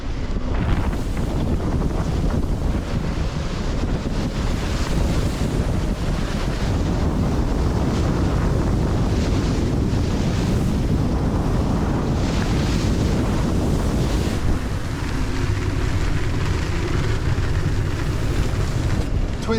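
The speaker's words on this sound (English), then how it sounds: "Now the wind had reached 30 knots, which was stated by the weather reports." Strong wind of about 30 knots roars over a sailing boat at sea, with heavy buffeting on the microphone and wave wash beneath, loud and unbroken throughout.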